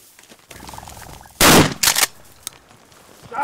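Single loud shotgun blast fired at a flushed quail during a desert hunt, followed by a second sharp report, with quiet field ambience and faint bird movement before.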